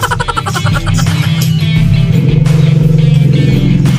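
Loud, close motorcycle engine idling and revving continuously with a rough, throbbing rumble, on a neglected motorcycle in a repair workshop.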